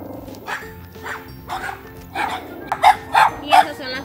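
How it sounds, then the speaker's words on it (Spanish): A dog on a mountain barking and growling at wild dogs, several short bursts rising to louder, closer barks toward the end, with a person talking throughout. "Nos hemos encontrado unos perros muy salvajes y ella, la bestia, gruñe."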